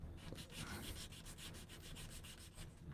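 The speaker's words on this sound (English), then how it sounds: "We're doing wet sanding to help." A steady, rhythmic scrubbing of sandpaper wet sanding a plastic Gundam model to remove a panel line, back and forth with quick regular strokes, close and fairly quiet, and no voices.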